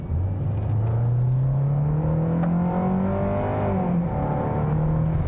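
A 2020 Hyundai Sonata Hybrid's small 2-liter Atkinson-cycle four-cylinder drones steadily as it accelerates, its buzzy tone climbing in pitch, briefly dropping at a gear shift, then rising again, loud and continuous with no talking.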